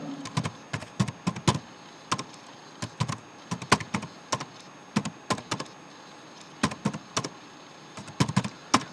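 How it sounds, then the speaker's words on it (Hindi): Keys clatter on a computer keyboard in irregular bursts of quick taps with short pauses between, close and crisp against a quiet background. "अब मैंने यहाँ पे टाइप किया नोएडा।"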